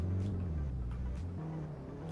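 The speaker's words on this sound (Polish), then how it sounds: "Ten samochód, który właśnie pojechał obok nas, to jest medium nugat." A car driving past in the Roblox game Polish Car Driving, a steady droning engine hum with shifting pitch as it goes by, close and continuous without talk.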